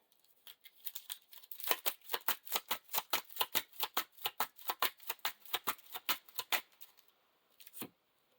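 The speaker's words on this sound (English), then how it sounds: "Shuffle that back into the deck." A deck of playing cards for a Lord of the Rings card game is shuffled close up in a rapid run of crisp riffling snaps and clicks, with no voices.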